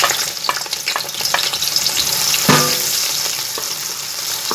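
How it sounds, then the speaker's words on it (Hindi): Onions frying in hot mustard oil in a pot, a loud, close, continuous sizzle with brief stirring scrapes and one sharper clank partway through, no speech. "हम इसमें प्याज डाल देंगे"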